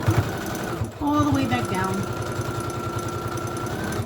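Sewing machine stitching along the folded edge of a dog leash, a steady rapid needle rhythm running nearly throughout with a short pause, while a person talks over it.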